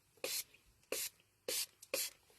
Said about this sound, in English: catnip spray.